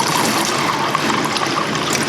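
A kitchen faucet in a Villages, Florida home runs steadily, giving an even, close rush and splash of flowing water with no talking.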